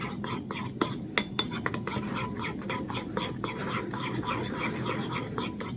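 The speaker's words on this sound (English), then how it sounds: "Mix until all of the ingredients are mixed evenly." Utensil scraping and clinking against a bowl while stirring tartar sauce ingredients with salt and pepper, a steady close rubbing with sharp ticks, amid faint whispery background.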